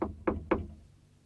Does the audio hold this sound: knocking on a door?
yes